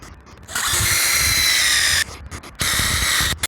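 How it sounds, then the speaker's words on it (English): A power drill bores a hole in a stock KTM 390 Adventure motorcycle handlebar, whining loud and close in two sustained runs with a brief rattling pause between them. "So that's exactly where I need to go ahead and drill my hole."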